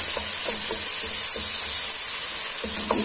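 Coconut milk sauce being stirred in a pot for a fish soup: soft scraping and sloshing strokes at an uneven pace under a constant bright hiss of steam and sizzle, close by and fairly loud, with no voices.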